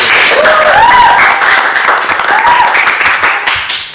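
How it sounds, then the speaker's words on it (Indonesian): An audience at a medical students' podcast recording claps in loud, sustained applause close to the microphone, with cheers and a brief voice rising over the clapping. "Tepuk tangan"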